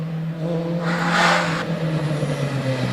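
A Formula Renault Tatuus single-seater race car, built in France for circuit racing, runs a hillclimb practice session at Prescott, its engine note swelling and fading as it passes at middle distance over a steady background drone.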